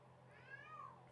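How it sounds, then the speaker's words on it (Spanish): Two cats meow indoors, a pair of long rising-and-falling cries overlapping near the middle, fairly clear over a steady low hum. "Mira, los gatos ya están."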